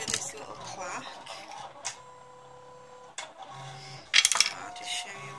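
Silhouette electronic cutting machine working on paper in the background, whirring motor runs with clicks and a sharp clatter near the end, faint and intermittent under someone talking.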